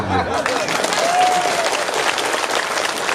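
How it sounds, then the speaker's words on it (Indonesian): A crowd at a religious lecture breaks into applause, a loud, continuous patter of many hands that fills the moment, with a voice briefly audible near the start. "Tepuk tangan."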